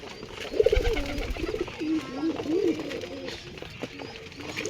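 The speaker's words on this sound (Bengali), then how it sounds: "এটা আমার কবুতরের ঘর" Pigeons coo steadily inside a backyard loft, several soft rolling calls overlapping at close range against a low murmur of movement.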